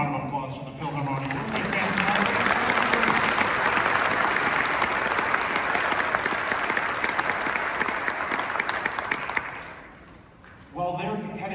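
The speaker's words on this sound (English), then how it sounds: "Another round of applause for the Philharmonia." A concert audience gives loud, sustained applause to a Philharmonia orchestra, a dense wash of clapping for about nine seconds that fades out, with speech briefly before and after it.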